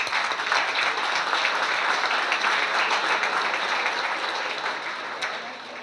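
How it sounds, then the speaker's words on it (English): Guests at a chamber of commerce annual dinner applaud, a dense, even patter of many hands that holds steady and then begins to fade toward the end. "I think the fact that we're all here together tonight it deserves a round of applause."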